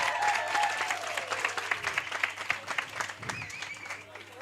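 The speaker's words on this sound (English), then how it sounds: "Let's give her a big round of applause." An audience at a business workshop claps steadily throughout, a dense patter of hands filling the room, while a voice talks over the applause.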